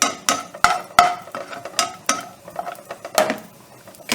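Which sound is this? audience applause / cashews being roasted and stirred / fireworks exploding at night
cashews being roasted and stirred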